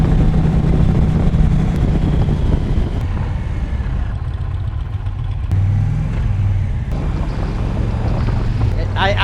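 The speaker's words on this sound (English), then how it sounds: "I do think the engine pulls good factory." An Indian Challenger motorcycle cruises in fourth gear at speed, its engine droning steadily with heavy wind rush, and the rider talks over the noise.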